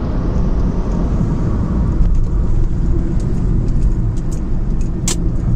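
Honda WR-V and Hyundai Creta, one petrol and one diesel, in a drag race, with a steady loud road roar of car engines and tyres throughout and a brief sharper whoosh near the end, no talk.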